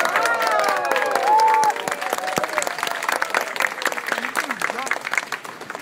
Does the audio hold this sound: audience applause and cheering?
yes